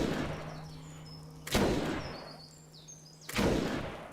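Two sharp, loud gunshots in the video game Fallout 4, spaced about two seconds apart, each with a short booming tail over a quiet background.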